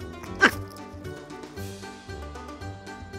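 A small dog yips sharply once over steady background music, the bark standing out briefly before the music continues alone.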